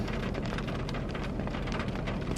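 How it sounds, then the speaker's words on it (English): Steady rain falling outside, a dense, continuous patter of drops with no break in rhythm, heard alone and fairly soft throughout. "Why is it raining?"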